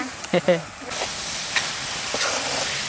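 Coconut and jaggery-sugar nadu mixture stirred in a pan, a steady close sizzling hiss with scraping strokes, a few short bursts of a voice early on.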